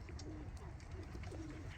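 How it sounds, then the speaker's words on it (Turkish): Pigeons coo softly and repeatedly in low, rolling calls against a faint outdoor background hum. "Kuş arkadaşlarımız da gelmiş."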